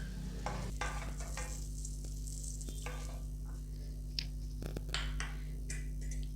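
Cashews and raisins frying in butter for banana halwa, a soft steady sizzle with scattered crackles and light stirring scrapes, close and fairly quiet.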